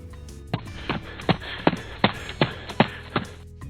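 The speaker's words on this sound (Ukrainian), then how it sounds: "Хтось легенько постукав до нас у вікно." Light knocks on a window: about seven evenly spaced taps, close and fairly crisp, with nothing else heard.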